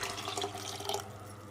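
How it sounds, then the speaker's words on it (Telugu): Water is poured into a pot of fried mince for mutton keema biryani, making a brief, fairly loud splashing pour close by with no talking. "మనమైతే ఇప్పుడు వాటర్ వేసుకుందాం."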